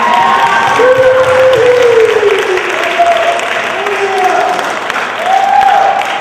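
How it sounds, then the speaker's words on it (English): An audience applauds and cheers for student presenters, a loud, dense roar of clapping with shouts, while a few voices call out on top. "Give them one big round of applause."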